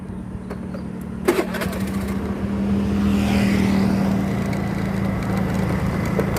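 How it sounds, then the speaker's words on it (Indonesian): A motorcycle engine cranks briefly, catches and starts, then settles into a steady, close idle. "saya nyalakan motornya dulu ya"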